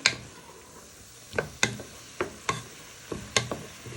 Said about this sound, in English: you want to stir that all in. Get it round the pan